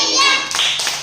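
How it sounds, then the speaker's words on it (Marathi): Children clap together in a classroom, a short burst of a few quick hand claps following a voice, close and fairly loud. "सगळ्यांसाठी टाळ्या."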